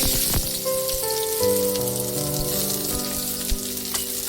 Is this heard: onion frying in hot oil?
yes